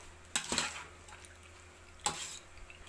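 Pork and banana blossom sisig kilawin being mixed in a bowl with utensils, two sharp clattering scrapes separated by a quiet pause, close and fairly soft.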